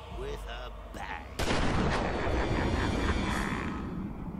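Gunfire in Batman: Arkham Asylum, a dense sustained barrage that erupts abruptly after a quieter opening and rolls on loud and close with a blurred, continuous texture rather than distinct separate shots.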